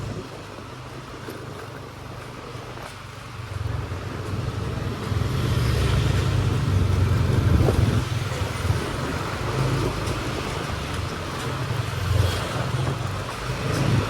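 Steady road traffic rolls past while driving along Legian Street in Kuta, Bali, a continuous close rumble of engines and tires that swells and eases, with no talk.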